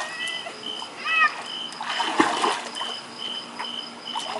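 A child kicks while swimming, throwing up bursts of bright water splashes and trickles close by, with an adult voice and cheering mixed in.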